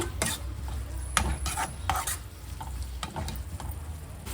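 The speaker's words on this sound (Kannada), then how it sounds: "ಇನ್ನೊಂದೆರಡು ನಿಮಿಷ ಸ್ವಲ್ಪ ಸ್ಮೆಲ್ ಹೋಗೋ ತನಕ ಫ್ರೈ ಮಾಡ್ಕೊಳ್ಳೋದ" A spatula scrapes and stirs tomato masala frying in oil for pudina rice, with repeated rasping strokes and a steady low sizzle close by.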